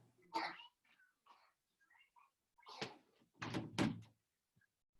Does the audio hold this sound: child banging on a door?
yes